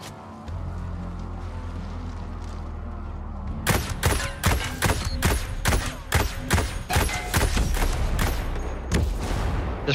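Rapid video-game gunfire from a DMR rifle and a grenade launcher in Ghost Recon Breakpoint, a loud burst of a dozen or so sharp shots and booms following a quieter lead-in.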